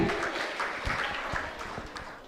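Scattered clapping from an audience at a temple quiz program, fairly faint and distant, with individual claps standing out from a soft, uneven patter.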